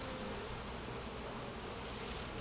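Honey bees buzz after their hive box is shaken during a honey harvest, a dense, continuous swarm drone that stays steady and close, with no voices.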